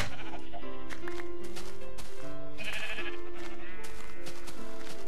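Sheep in the video game Minecraft bleat repeatedly in short, wavering cries, loud and close, overlapping one another with no talk over them.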